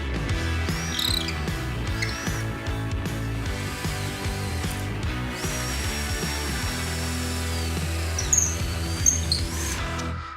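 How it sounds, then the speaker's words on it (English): A power drill whirs in repeated bursts as it bores holes into clamped hardwood timber, with short pauses and some clattering handling noises between runs. "So now all I have to do is clamp it down, drill the holes."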